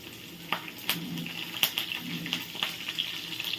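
Curry leaves dropped into hot oil with tempering seeds and dried red chillies, cooking for a potato fry, give a steady close sizzle broken by sharp crackling pops throughout, with no voices.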